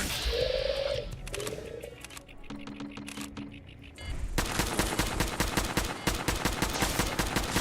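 Rapid gunfire in Fallout 4, with scattered shots and game tones early on, then a long sustained stream of fast, evenly spaced automatic shots running to the end.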